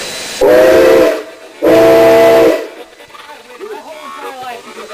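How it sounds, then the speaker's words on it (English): Two long whistle blasts from the steam locomotive Nickel Plate Road 765, loud and close, each about a second, followed by soft chatter and voices. "Two blasts on the whistle."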